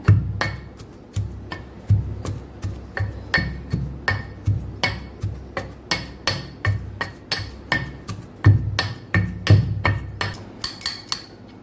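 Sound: pounding garlic with red chili powder for chutney

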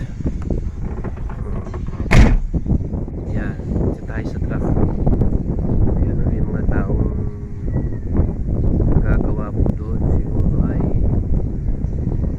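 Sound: wind and drizzle

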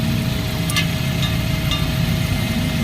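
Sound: Toyota Corolla 2E engine idling roughly, shaking

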